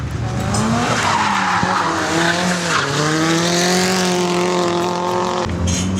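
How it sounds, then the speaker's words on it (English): Drift cars tear around a live racetrack with long, loud tire squeals and high, revving engines that rise and fall, sliding close by without pause for several seconds. "I'm actually still next to the live racetrack, protected by 2 tyres"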